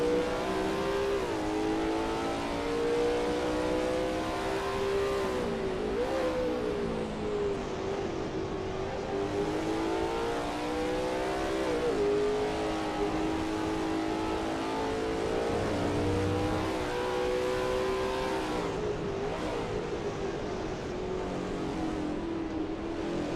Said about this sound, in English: The ASRL T70 MkII Spyder is indeed a sweet-ass looking ride.